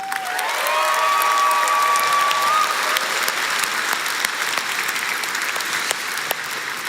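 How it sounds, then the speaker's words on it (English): A large conference audience applauds a presenter at a brand launch event, a broad, sustained round of clapping with scattered cheers, and a brief rising whistle-like tone near the start. "Big round of applause for Nicola"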